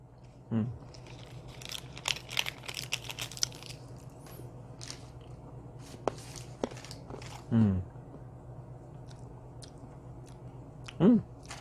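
Herbal jodeung-san pills are chewed up close, with crisp crunching bites and soft grinding repeated irregularly, and a few louder low thumps break through a quiet background.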